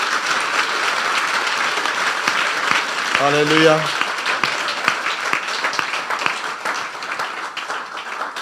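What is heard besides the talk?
congregation clapping in church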